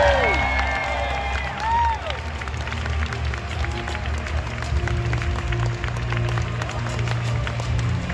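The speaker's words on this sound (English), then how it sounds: "And a big round of applause and congratulations to our trading card game junior champion," Applause and cheering for the junior champion at the Pokémon Europe International Championship trading card game event, a broad crowd roar with steady clapping, whoops and a tonal hum in a large hall.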